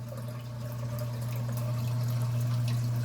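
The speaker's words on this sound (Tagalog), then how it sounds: "Pwede na yan kasi malakas naman ang flow ng tubig na to" Strong water flow in a crayfish aquarium: a steady, even rushing and bubbling of moving water with a constant low hum beneath, close and unbroken, with no talking.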